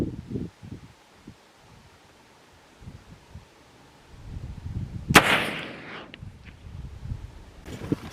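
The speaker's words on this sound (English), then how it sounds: "So guys, here's my 100-yard shot." A single sharp muzzleloader rifle shot fired at a 100-yard target cracks loudly outdoors, followed by a brief rolling echo, with quiet wind and rustling before and after.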